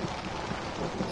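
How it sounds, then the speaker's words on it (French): A thunderstorm in the horror video game Outlast, with steady rain and a low thunder rumble, fairly faint and with no one talking. "Cet orage est une horreur."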